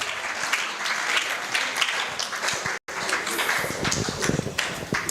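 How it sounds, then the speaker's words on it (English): Steady applause and hand clapping from an audience at an ear, nose and throat nurses' anniversary scientific session, dense and continuous with a brief dropout midway. "If you don't clap well, I'll tell you about your hand clap."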